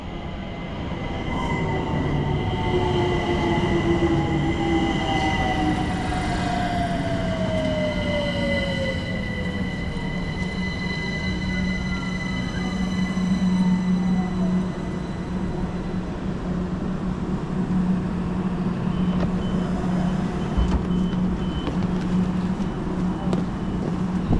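A London Overground Mildmay line train rolls along with a steady rumble while wheels squeal and whine in long rising and falling tones, loud and close, with no talking.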